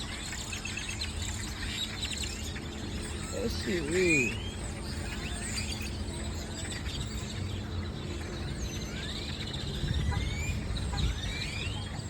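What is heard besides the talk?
birds calling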